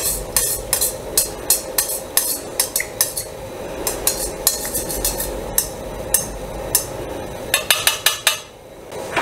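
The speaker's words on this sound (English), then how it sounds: "I'm just using a metal skewer to stir gently as the waxes dissolve into the oil." Metal skewer stirring wax as it dissolves into warm oil in a pot, for re-waxing a waxed jacket: steady sharp clinks and taps against the metal pot at an uneven rhythm, close up over a low continuous hum, no talking.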